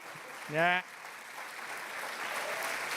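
Graduation ceremony audience applause, a soft, steady patter of distant clapping, briefly overlaid early on by a single loud voice.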